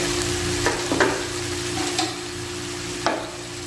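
Soy sauce goes into chicken gizzard and liver adobo cooking with ginger and bay leaf, setting off a loud, continuous sizzle close by, with a few sharp spoon or pan knocks and no talking.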